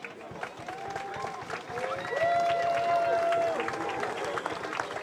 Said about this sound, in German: Applaus für den Eddie